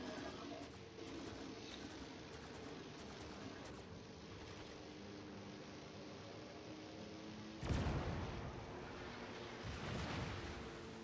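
Naval artillery fire from a warship in an online naval combat video game, a steady rumbling battle din topped by a sudden loud booming salvo near the end and a second fainter blast.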